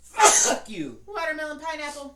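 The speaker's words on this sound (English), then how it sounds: "I'm super gonna sneeze." A loud, close sneeze from a person bursts out alone at the start, followed by a voice talking.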